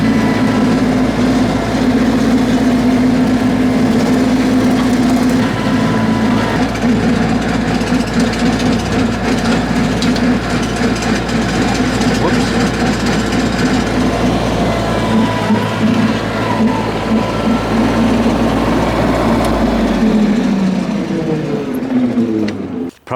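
A compact tractor with a mower blade runs its engine steadily and loudly as it reverses into bush, a continuous low drone and rumble that holds throughout before fading at the very end.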